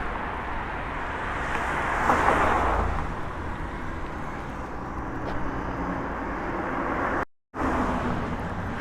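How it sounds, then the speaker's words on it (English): Wind gusting along a city street in Toronto's Roncesvalles area on a blustery December day, a steady loud rushing roar with faint traffic underneath, close to the microphone, no talking. "could hear wind right now"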